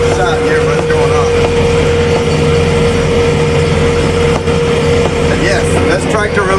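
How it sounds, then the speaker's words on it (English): A tractor engine drones low and steady while the machine rolls smoothly along a paved road, with a continuous close rumble and road noise throughout and no talking. "this tractor really does ride that smooth, y'all"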